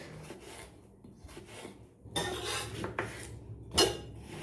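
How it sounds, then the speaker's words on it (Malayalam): Vegetables are sliced lengthwise for Kerala aviyal, with a knife knocking and scraping against a board or metal vessel in short bursts, quiet at first and then louder and busier, with one sharp clatter near the end. "ആദ്യം ഞാൻ അവിയലിലാട്ടോ നീളത്തിൽ നീളത്തിൽ അരിയുന്നുണ്ട്"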